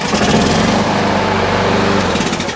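A small petrol lawn mower engine fires after a cord pull and chugs loudly and steadily close by for a couple of seconds before dying away.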